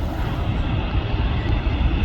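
Steady, broad engine roar from a Ryanair jet airliner landing at Manchester Airport, a continuous low rumble with hissing upper noise and no breaks.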